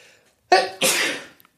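A single loud, close sneeze from someone with hay fever, a sharp intake followed by an explosive burst, alone in an otherwise quiet room.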